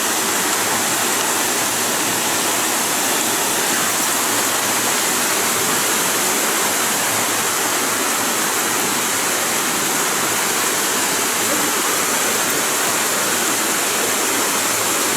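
Garden Creek Waterfall on Casper Mountain, Wyoming, pours in a steady, dense roar of falling water, loud and close, continuous for the whole stretch with no voices over it.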